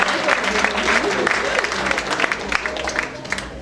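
An audience claps its hands at a church couples' event in Haiti, the applause steady and fairly close with voices mixed in throughout.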